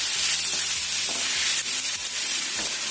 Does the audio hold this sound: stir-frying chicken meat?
yes